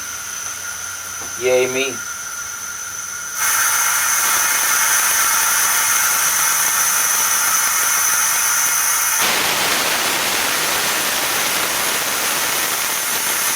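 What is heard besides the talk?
air pressure releasing from a pressure pot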